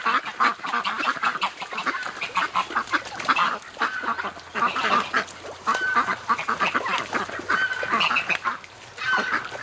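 A flock of ducks at a creek in winter quacks busily and close by, with rapid overlapping honking calls throughout.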